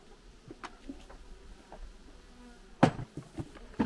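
Honeybees buzz around beehives, a close, faint drone with insects passing near, mixed with light taps and clicks from handling the hive.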